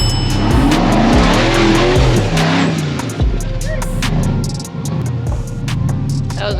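A rear-steer Jeep rock crawling under hard throttle, its engine roaring loud and close, revving and surging with a sustained rough growl and sharp bursts throughout.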